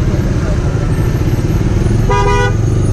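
On a motorcycle ride through heavy rain in traffic, a car horn gives one short, loud toot near the end, over a constant roar of engine, wind and road noise.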